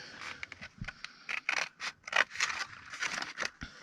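Scissors snip through paper along a drawn line for ephemera crafting, a run of short crisp cuts and scraping slices up close, irregular in rhythm with small pauses between bursts.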